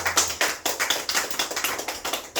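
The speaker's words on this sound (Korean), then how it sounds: "우리 박수 한번 더 하겠습니다." A church congregation claps together in a brisk, steady rhythm, with sharp, evenly spaced claps that carry loud and close through the whole stretch.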